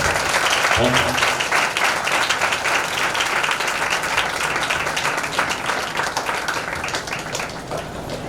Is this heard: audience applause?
yes